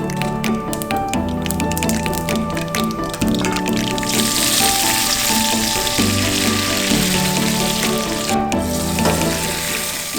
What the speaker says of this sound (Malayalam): വെളിച്ചെണ്ണ ഒഴിച്ച് ചൂടായാൽ കടുക്, വറ്റൽമുളക്, വേപ്പില എന്നിവ ചേർത്ത് താളിച്ചൊഴിക്കാം.